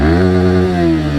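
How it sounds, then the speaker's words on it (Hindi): A 2021 Yamaha R15 V3 motorcycle in Metallic Red, first gear engaged, holds a loud, sustained high engine note near redline, its pitch rising slightly then settling, with no voices over it. "बहुत अच्छा जो है रेड लाइन कर रही है मोटरसाइकिल"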